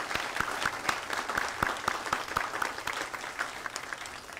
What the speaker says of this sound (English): So let's please give them a round of applause to those leaders.